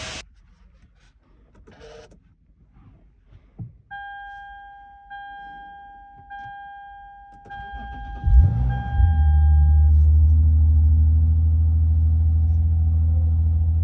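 A 2011 Lexus IS350 just back from a fuel pressure sensor replacement: a few chimes and clicks give way to the starter cranking, then the V6 catches and settles into a loud, steady idle.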